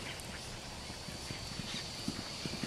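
Rhythmic hoofbeats of a fast bay horse moving quickly between barrels in a reining test, steady thuds repeating at a brisk pace, moderately close, with faint background noise and no talking.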